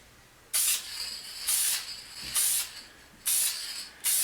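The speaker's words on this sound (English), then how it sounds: "we're ready to spray the finish on. That is deft, clear satin finish lacquer." Deft clear satin lacquer sprayed onto a wooden barrel, four bright hissing bursts of about a second each with short pauses between, close and fairly soft, with no talk.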